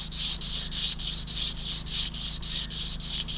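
Steady rhythmic rubbing of abrasive strip around a Honda VTR1000 crankshaft journal, a close, even hissing scrape repeating in quick back-and-forth strokes, alone with no talk.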